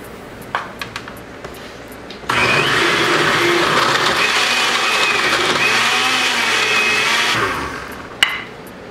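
Blender whirring loudly for about five seconds while mixing avocado smoothie ingredients with coconut water, starting abruptly and then winding down, with light clinks before and after.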